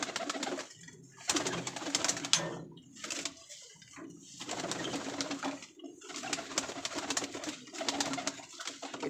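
A flock of pigeons at a high-flying pigeon farm coos in overlapping, low throaty bursts while being fed, close by and fairly soft, with occasional clinks and rustling between the calls.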